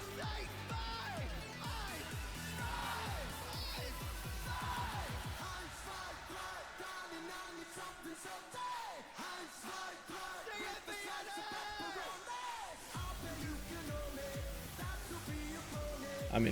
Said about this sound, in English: Now you have the crowd getting involved too.